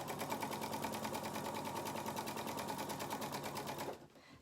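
A sewing machine stitches quilt fabric in a fast, even, continuous run of rapid needle strokes, moderately close and steady, then stops near the end.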